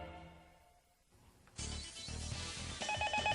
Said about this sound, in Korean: 제작진에게 걸려온 전화 한 통.